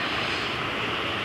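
A helicopter in the Roblox prison escape game gives a continuous loud, dense rotor-and-engine roar with no pauses and no voices over it.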